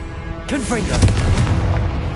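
A Confringo fire-blast spell bursts in Hogwarts Legacy with a sudden loud crack and a rumbling boom that lingers for over a second, while a voice speaks over it.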